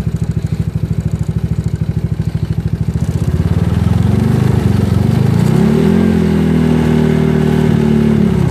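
A GY6 scooter engine on a Znen ZN150T-9 (SSR Interceptor 150) chugs at a rhythmic idle, then revs up and holds a higher steady drone, close and loud, with no talking.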